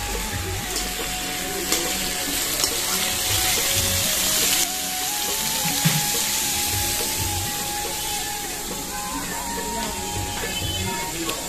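Potatoes sizzling and frying in a cumin and onion tempering, a steady close hiss with small crackles running throughout, with faint clinks now and then.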